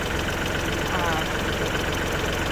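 A steady, droning tractor engine idles close by on a farm throughout, a constant low rumble with a faint knocking texture and a voice speaking over it.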